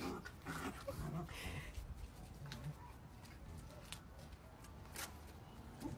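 Several pet dogs being teased, with whimpering and panting plus some yelps over a busy, noisy room throughout, and faint voices in the background.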